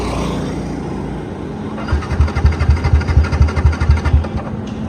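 A Yamaha MT-15 motorcycle engine cranks and catches after a quiet pause, then runs with a loud, pulsing, uneven idle and revs close by, with no talking.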